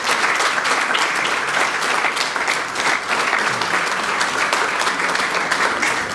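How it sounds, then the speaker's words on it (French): An audience applauds Madame Jacqueline at an excellence prize ceremony, steady dense clapping that holds loud and even throughout. "Je vous demande d'applaudir Madame Jacqueline Calquez"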